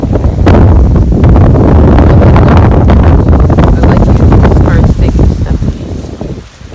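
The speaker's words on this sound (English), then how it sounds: "If you can even hear me past the wind." Strong wind buffeting a microphone outdoors as rain begins, a loud continuous rumbling roar that dominates throughout and eases slightly near the end, with a voice faintly underneath.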